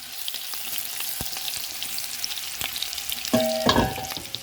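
Seafood pasta ingredients frying in avocado oil and butter in a pan, a steady close crackling sizzle with a few stirring clatters and a brief scraping clink near the end.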